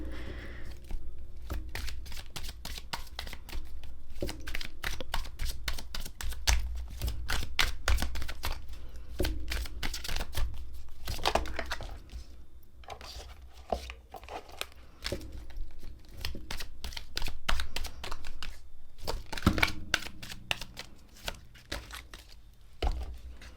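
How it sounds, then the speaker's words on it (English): Tarot cards are shuffled and pulled from the deck, making long runs of rapid riffling snaps and papery flicks, close and fairly loud, with brief pauses between bursts. "I'm going to pull another card because I want to see what this card here is"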